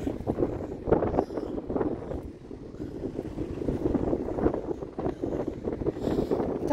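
Strong wind buffets the microphone outdoors in the Dutch countryside during tulip season, a continuous loud rumbling roar with gusty swells throughout and no speech.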